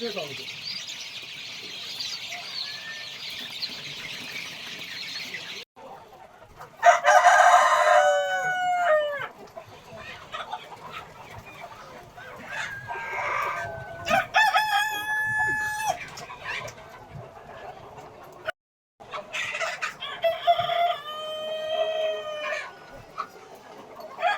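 Country chickens on a poultry farm, with roosters crowing loudly several times and hens clucking and squawking close by, under background chatter and a steady hiss.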